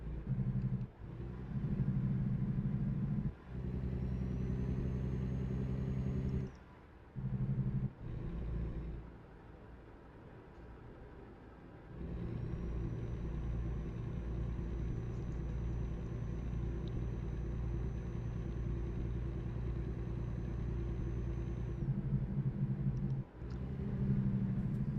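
A simulated truck engine in American Truck Simulator rumbles deep and steady while driving, with the pitch shifting between gears, a brief drop in level partway through, and faint high tones above the drone.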